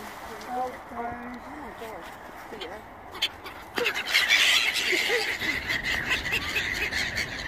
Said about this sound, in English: Look at all these birds that want you, Mitchell.